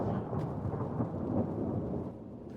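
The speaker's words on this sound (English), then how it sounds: "thunderstorm again" Deep rolling thunder from a thunderstorm in the video game Gold Rush The Game, a sustained low rumble with faint rain behind it, fairly loud and steady before easing off.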